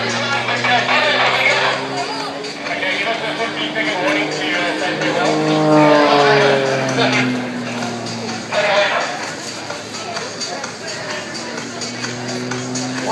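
A German-designed Extra aerobatic plane flown by Glen Dell at a Red Bull Flugtag 2012 display gives a steady, loud engine drone whose pitch swells and bends as it maneuvers, over broad open-air noise.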